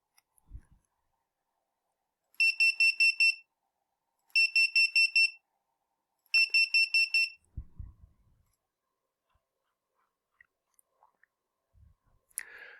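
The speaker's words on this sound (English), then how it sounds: "Then for 10 times, I'm going to toggle beeper, sleep point 1 second." An electronic beeper switched on and off in a repeated pattern, giving three bursts of rapid, evenly spaced high-pitched beeps, each with about five short pulses, separated by gaps, followed by a few faint handling clicks.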